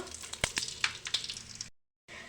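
Spices for sambar tempering crackle and sizzle in hot oil in a pan, a quiet run of sharp pops and spits over a soft fry hiss, cut by a brief silence before the sizzle resumes.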